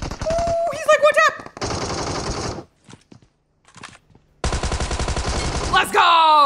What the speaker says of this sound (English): I mean, who doesn't love a Tommy gun?